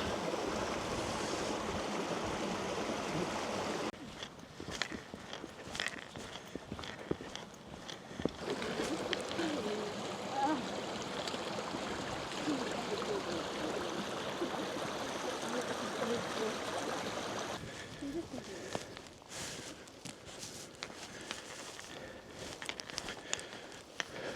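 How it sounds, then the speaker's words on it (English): Mountain stream running down a hillside on Wether Hill in the Lake District, a steady broadband rush of water with a shift in level partway through, heard close and continuous, with faint movement noise. "all the water runs into this little part here"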